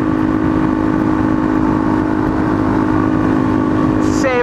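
A Suzuki DRZ motorcycle with a free-flow exhaust idles steadily nearby, a constant loud droning hum with no revving and a faint high whine near the end.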